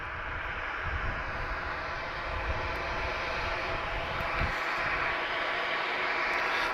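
Transavia France Boeing 737 at Madeira Airport, its engines a broad continuous roar at moderate distance, holding steady and swelling slightly late on.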